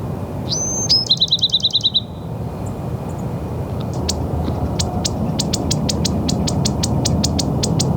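Outdoors along the Pacific Crest Trail, a Bewick's wren perched atop a shrub sings a clear whistled note followed by a quick buzzy trill, then a series of sharp repeated chips against a steady background hiss.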